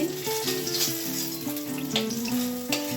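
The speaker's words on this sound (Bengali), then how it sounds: "বেগুনগুলো পরপর সুন্দর করে ভেজে নিচ্ছি বেশ লাল লাল করে ভেজে নেব" Eggplant slices sizzle as they fry in oil in a home kitchen, a steady dense crackle with faint tonal hum in the background and no talking.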